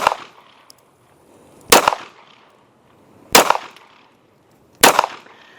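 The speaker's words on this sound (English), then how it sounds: "Let's take some shots through the Walther here." A Walther PDP pistol fires four sharp, loud shots spaced about one and a half seconds apart, each a crisp crack with a short ringing tail, near and alone with no talking.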